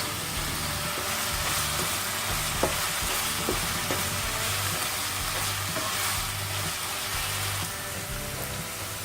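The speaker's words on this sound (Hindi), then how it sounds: "हरी मिर्च भूनकर अब प्याज डाल देंगे। प्याज को अच्छी तरह से भून लेंगे।" Onions with turmeric and green chili fry in hot oil, producing a dense, rain-like crackling sizzle that runs unbroken and fairly loud, with a few faint taps of a spoon in the pan and no voices.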